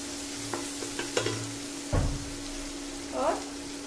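Garlic-ginger paste and spices frying in a pan, a soft sizzle with a few stirring scrapes and clinks, one louder stir burst in the middle, all fairly close and moderate in level.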